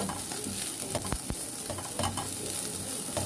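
Pork browning in its own rendered fat in a pan, with a steady bright sizzle and a few scraping stir strokes, close and continuous with no talking.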